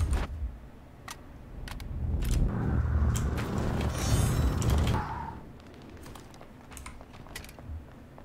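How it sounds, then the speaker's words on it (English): Both guns are reloaded in the Bloodhunt video game, with clicking, ratcheting mechanical clacks and a rising metallic whir, crisp and close with scattered sharp ticks. "To reload both guns."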